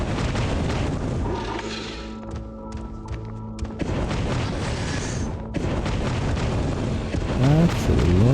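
Flamethrower shots in the game Z Shelter roar and boom in heavy, continuous blasts, loud and dense through the whole stretch with a brief dip midway.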